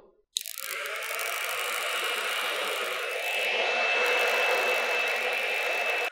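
A hair dryer blows hot air onto a cut hair fringe in a salon, a steady loud broadband rush starting abruptly and holding for about six seconds, slightly louder near the end, with no voices.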